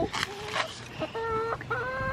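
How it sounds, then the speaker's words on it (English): Backyard chickens cluck and squawk at their coop during morning chores, several close calls in quick succession, some drawn-out and tonal, with no talk. "The girls are gonna help me do our chicken chores this morning."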